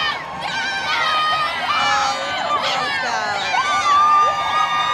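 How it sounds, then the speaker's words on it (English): At a 2022 Pride parade, a street crowd cheers for passing Girl Scouts, many high voices shouting, whooping and calling out in a loud, continuous, overlapping clamor. "Can we get a crowd for the Girl Scouts?"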